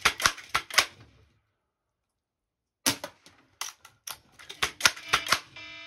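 Rapid gunshots fired at cans, sharp cracks in two quick bursts, four shots, a pause of silence, then about a dozen closer-spaced reports with clicking handling sounds between.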